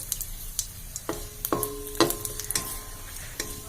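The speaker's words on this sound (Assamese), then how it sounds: "আৰু লগতে তেজপাত, শুকান জলকীয়া এইকেইটা গোটেইকেইটা বস্তু দি দিম আৰু দিয়াৰ পিছত অকমান লৰাই লওঁ" Bay leaf, dried chili and panch phoron spices fry in hot oil while being stirred, giving soft sizzling with scattered clinks and scrapes of a utensil against the pan over a few seconds.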